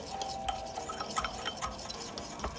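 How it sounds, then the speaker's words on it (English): A spoon stirs dry ingredients into melted butter in a bowl, giving soft, steady scraping and rubbing strokes with light clinks of utensil against the dish, close up and without talk. "Just kind of mix up those dry ingredients in with that melted butter,"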